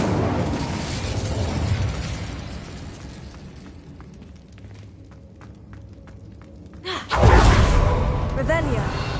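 A fire spell cast in a Harry Potter video game bursts out with a loud whooshing blast near the end, after a stretch of quieter game sounds and ambience.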